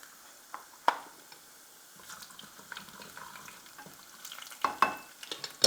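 Dried red chillies and cumin fry in oil with a soft, crackling sizzle, punctuated by several spoon-and-pan knocks as they are stirred.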